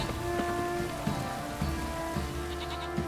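Steady rain pattering on a surface in The Witcher 3: Wild Hunt, a continuous hiss with droplet ticks, accompanied by a low sustained tonal hum; no voices.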